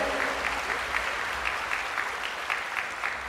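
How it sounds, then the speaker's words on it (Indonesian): Audience applause at a Buddhist Dhamma talk in Indonesia, a steady patter of many hands clapping with a few sharper claps recurring at a regular pace, moderately loud and without talk over it. "tepuk tangan untuk jawaban dari Yang Mulia Bante"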